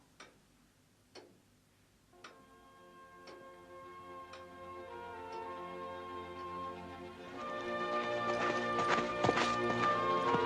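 A few spaced hollow clops of horse hooves at first, then a rising sustained choral Sanctus chant builds and grows louder toward the end.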